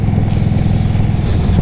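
Indian Sport Chief cruiser motorcycle with a large-displacement V-twin, a close, loud, deep rumbling idle pulsing steadily throughout the short stretch with no talking.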